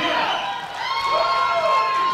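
Crowd at a sub-junior and junior powerlifting world championship cheering a 330-kilo deadlift attempt, loud sustained shouting and whooping from spectators on their feet, continuous and close through the short moment.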